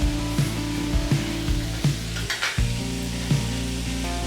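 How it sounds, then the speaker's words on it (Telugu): Vegetables sizzle and fry steadily in a hot pan for street-style veg noodles, with boiled noodles tipped in and stirred. There are repeated scraping clinks from a spatula against the pan, and no talk. "బాగా ఫ్రై చేసేసుకోవాలి ఫ్రై చేసుకున్నాక అప్పుడు మనం ఆల్రెడీ బాయిల్ చేసి పక్కన పెట్టుకున్న నూడిల్స్ ఉన్నాయి కదండి ఆ నూడిల్స్ని వేసేసుకోవాలి"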